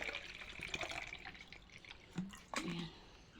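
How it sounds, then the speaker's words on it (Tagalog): Water is poured into a child's water bottle, a faint, close trickle with small drips and splashes and a couple of light plastic knocks near the end. "Maglalagay tayo ng tubig"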